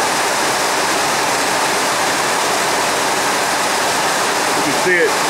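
Water leaking through a carport roof and dripping onto a parked truck, a steady dense hiss of falling water filling the scene from start to finish, loud and continuous with no pauses.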